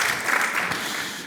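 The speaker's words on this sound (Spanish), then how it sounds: "Un aplauso para Luis Cueto." Short burst of applause from a conference audience at an AI talk, a steady wash of clapping hands at moderate volume, fading slightly at the end.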